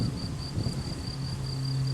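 Honeybees buzzing during introduction of a PRIMA queen into a hive, a steady, close, continuous hum with a faint high tonal whine running through it.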